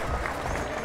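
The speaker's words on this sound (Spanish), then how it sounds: "Un fuerte aplauso a estos." Stadium crowd applauding at a Chilean league football match, O'Higgins against Huachipato, a steady broad wash of clapping filling the whole short moment.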